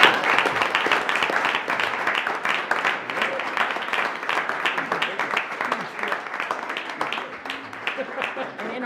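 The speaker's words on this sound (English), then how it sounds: "I want you to give us all an applause" Sustained applause from an audience at a college board of trustees meeting, many hands clapping steadily and fairly close for nearly nine seconds, with a few voices mixed in.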